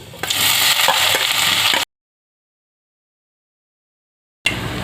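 Sliced onion drops into hot mustard oil already seasoned with a bay leaf and panch phoron, giving a loud close crackling sizzle that cuts off abruptly, then silence before the frying noise briefly returns.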